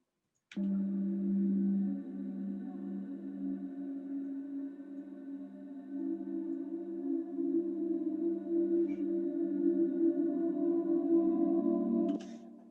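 A low synthesized bass tone sustains for several seconds with a lingering, reverberant wash that swells slightly before cutting off.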